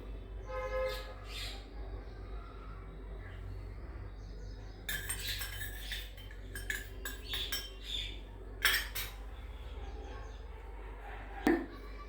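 Metal spoon stirring milk and food colour into a fasting burfi mixture, with scattered clinks and scrapes against the vessel that come in bursts in the second half, faint and close, with low background hum.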